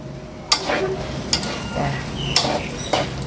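Food stir-fries in a pan with a low sizzle, punctuated by four or five sharp scraping strokes of a spatula at irregular intervals, close up.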